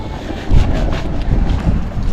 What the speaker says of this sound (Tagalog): Lakas din po ng hangin dito sa dagat.